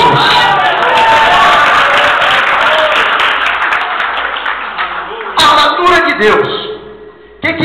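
A church congregation claps and cheers loudly for about five seconds, a dense wash of hands and voices, before it thins out into scattered claps and a few voices.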